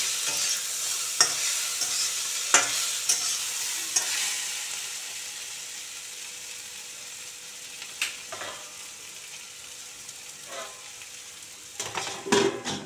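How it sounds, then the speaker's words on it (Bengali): Pieces of sweet pumpkin frying over a low gas flame are stirred in a pan: scattered spatula scrapes and taps over a soft, constant sizzle, with a busier burst of stirring at the end. "বেশ ভালো করে আবারও নেড়ে চেড়ে নিতে হবে।"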